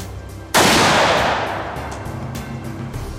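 One loud, sharp gunshot from a .44 Magnum revolver cracks close by, followed by a long rolling echo that slowly fades out.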